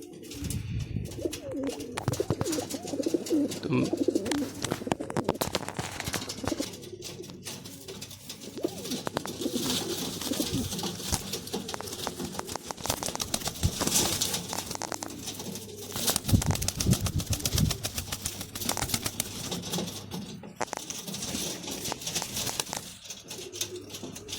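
Pigeons kept by a fancier coo steadily in low, rolling throbs, with occasional bursts of wing flapping, close and continuous over the whole stretch with no talking.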